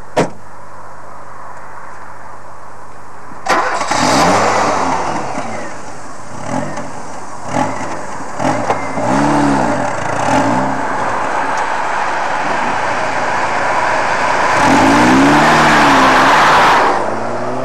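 Police car starting up, then driving off toward the station, with a sharp click, then the engine catching and revving in repeated swelling strokes through the gears, ending in a loud sustained acceleration roar.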